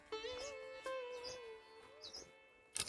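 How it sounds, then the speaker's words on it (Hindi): Birds chirp beside the Narmada river with a few faint, thin whistled calls and twitters, spaced out over a quiet riverside background. "और जो आवाज़ है जल की और चिड़ियों की,"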